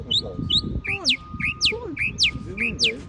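A pet bird sings nearby in a repeating pattern of bright rising and falling whistled phrases, several in quick succession, with faint low background noise beneath.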